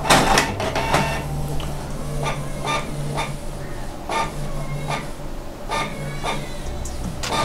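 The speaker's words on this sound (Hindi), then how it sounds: "मैं प्रिंट जैसे ही दबाता हूँ आप देखेंगे ये प्रिंट होना शुरू हो जाता है।" A Canon printer feeds and prints an A4 page sent from a mobile phone over USB, giving a steady mechanical hum with a series of sharp clicks and clacks at irregular intervals, fairly close.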